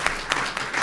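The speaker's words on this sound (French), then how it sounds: "qu'on l'applaudisse bien fort" Scattered claps from an audience at a talk on Moroccan Judaism, a few distinct broadband bursts spaced evenly across a brief moment, moderately loud with no voices over them.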